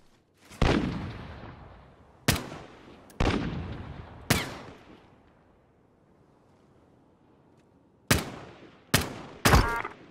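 Separate loud gunshots in a search-and-destroy shooter game, each sharp crack trailing off in a long echo, coming singly and then in a quick cluster near the end, with no talking.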